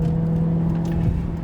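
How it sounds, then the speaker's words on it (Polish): A Maserati GranTurismo with a 405 hp V8 engine runs with a deep, steady burble, close and continuous for a brief moment with no speech over it. "Dźwięk ma piękny, bo to jest V8, która brzmi no po prostu zniewalająco"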